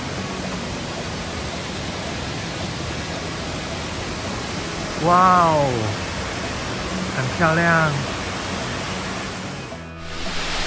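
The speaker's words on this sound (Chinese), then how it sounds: "听到瀑布的声音越来越大" Brandywine Falls in Cuyahoga Valley National Park roars as a steady, broad rush of falling water, loud and continuous, while a woman briefly exclaims over it before the sound cuts off.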